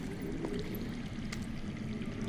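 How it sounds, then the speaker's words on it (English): Running water trickles underground in a Game of Thrones video game scene, a soft continuous pouring murmur heard alone for a couple of seconds. "I hear water"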